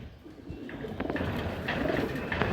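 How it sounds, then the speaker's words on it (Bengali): Pigeons, racer and Giribaaz birds kept in a loft, cooing in low throaty repeated calls close by, with faint background murmur. "এখানে আরেক জোড়া কবুতর আছে"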